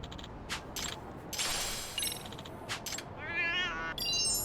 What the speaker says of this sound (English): I hear a cat, but where?